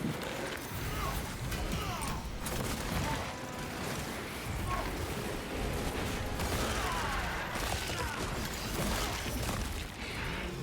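Rapid, sustained Inferno Pistol fire in the Space Marine 2 video game: a dense, loud, unbroken barrage of shots and crackling bursts that continues for the whole stretch with no pause.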